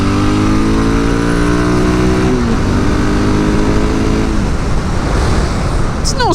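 Dual-sport 650 motorcycle engine droning steadily as the rider shifts down a gear and leans into a corner on new tires, the tone stepping down mid-ride then dissolving into wind and road rush, loud and close throughout.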